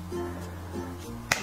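One crisp finger snap near the end, sharp and close, rising above a low steady hum in a quiet room.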